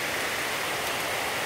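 Steady rain pours down outdoors, an even, dense hiss that runs without pause and with no talking.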